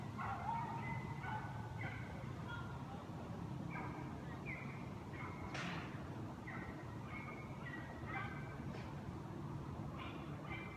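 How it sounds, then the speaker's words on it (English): A dog barks repeatedly in the distance, faint short bursts over a steady background hum. "Something's going on with somebody's dog."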